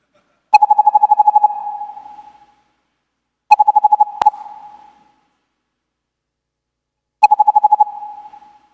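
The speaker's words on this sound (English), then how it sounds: "you keep hearing these sounds like as cells are being created again and again as you scroll the scroll view" Debugger breakpoint pings repeat as table view cells keep being created while scrolling, three bursts of rapid pulsing tones, each trailing off into a ringing decay, separated by silence.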